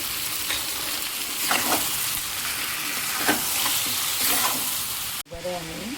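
Chicken sizzling in a pan with cumin, coriander and salt, a continuous hiss of frying with scraping stirs, ending in a sudden cut and a brief quieter moment.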